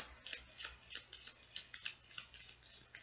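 Tarot cards are shuffled quietly and rapidly, a soft riffling flutter repeating in quick bursts, close by and faint.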